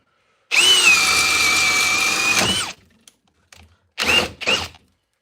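A Diablo 7/8 inch paddle bit bores through wood under a power drill, one steady whining run of about two seconds that winds down, followed by a pause and two short, loud bursts of drilling close by.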